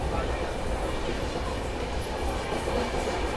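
The New Delhi–Chandigarh Shatabdi Express, train number 12045, rolls in nearby with a dense, continuous rumble and rail noise, with voices faintly audible underneath.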